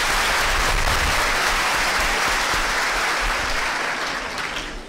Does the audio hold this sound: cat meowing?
no